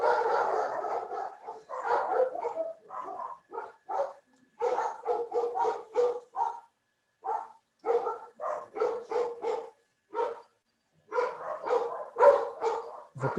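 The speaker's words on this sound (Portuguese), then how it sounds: "Tem uma cachorrada latindo aqui." Several dogs bark repeatedly in short, overlapping bursts, fairly close and moderately loud, with brief pauses between volleys.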